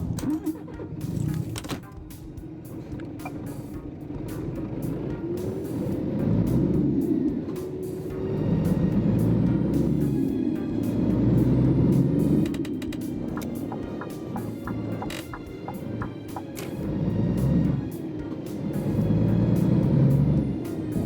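A Scania R440 truck in the Euro Truck Simulator 2 game starts up, its engine settling into a steady diesel hum that swells and eases in the cab, with no speech over it.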